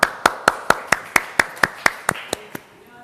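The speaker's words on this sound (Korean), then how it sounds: "말씀을 박수로 청해 보겠습니다" Audience applause at a 2021 social innovation forum on climate and eco-friendly living in Korea: about eleven sharp, evenly spaced claps, fairly close and clear, that thin out toward the end.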